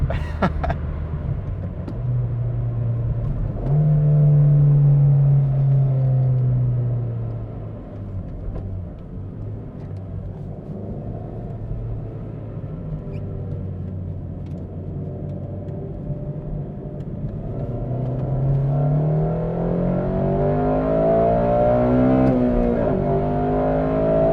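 An 8th-generation Honda Civic Si engine revs and accelerates up through the gears, rumbling low with rising whine, loud and close, with no voices.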